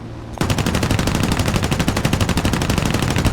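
.50 cal machine guns on an F2A-3 plane in War Thunder fire one loud, rapid sustained burst with an even rattling rhythm that starts abruptly and runs to the end.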